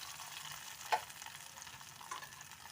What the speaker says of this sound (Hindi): अब हम थोड़ा सा ये अपना तड़का जो है अपने हांडी के अंदर डाल रहे हैं